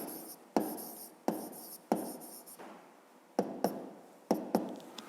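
Hand writing of a fifth-grade math answer on paper, heard close up as a series of sharp pen taps and short scratchy strokes in uneven bursts, with no talking.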